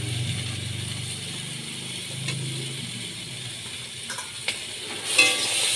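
Carrot and raw banana pieces stirred in a hot pan while cooking shukto, a steady close sizzle with soft scraping strokes, then a few sharp clicks from the utensil near the end.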